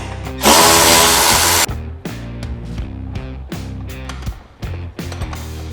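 A power tool drives down tire carrier bracket bolts on a Segway Villain, with a loud sustained burst of rattling impacts followed by several shorter whirring pulses, close by with no talking.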